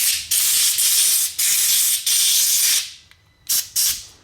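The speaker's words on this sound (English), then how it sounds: "I'm going to blow out all of the passages, so it's nice and dry and clean." Compressed air blasts through the passages of a Rekluse motorcycle clutch slave cylinder during a rebuild, loud hissing bursts repeating in long pulses, then two short final blasts with no talking.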